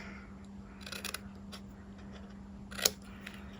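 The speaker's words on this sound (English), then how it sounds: "we're going to cut in here and do a little bit of an angle cut on both sides here" Scissors or snips cutting paper to make angled miter cuts on a small paper treat box, a few light snipping crunches spread out with one sharper snip near the end, close and fairly quiet over a steady low hum.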